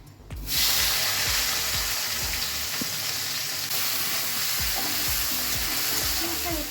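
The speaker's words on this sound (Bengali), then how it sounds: "এবার এই তেলটার মধ্যেই আমি দিয়ে দেবো 5 ফোড়ন, কেটে রাখা পেঁয়াজ" Chopped onion and five-spice seeds drop into oil already used for frying hilsa fish heads, and a loud, steady sizzle bursts in suddenly and holds close, with faint scattered clinks beneath it and no talking.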